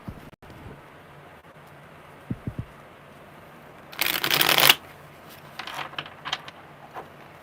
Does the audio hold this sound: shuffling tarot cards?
yes